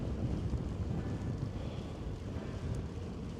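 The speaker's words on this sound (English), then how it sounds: "Quite windy." Wind buffets the microphone in a low, rough rumble while cycling along a trail in the Adirondacks, steady and close with no voices.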